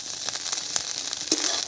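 Food, likely potatoes with garlic leaves, frying in a pan: a steady close sizzle with faint crackles and a few soft stirring scrapes over a short stretch.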